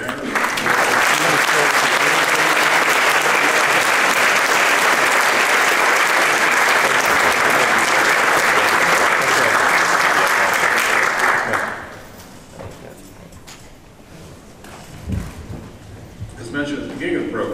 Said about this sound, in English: Let's all give one more round of applause to Secretary Hanger.